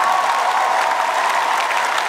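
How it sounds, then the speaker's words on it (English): Stand-up comedy audience at a live show clapping loudly and continuously, a dense, even roar of applause with no break. "I want you to clap according to your future bank accounts"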